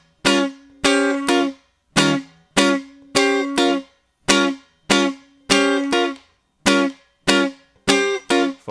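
Staccato funk guitar chords on the upper three strings for a song, short choppy stabs with muted gaps between them in a syncopated rhythm, played alone.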